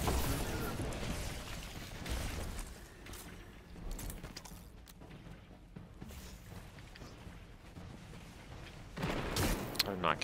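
Grenade explosion and gunfire in Destiny 2 during a Grandmaster Nightfall on Insight Terminus, played as a Behemoth Titan: bursts of shots and booming blasts, loud at the start and end with quieter rumbling combat between, and a voice talking faintly at times.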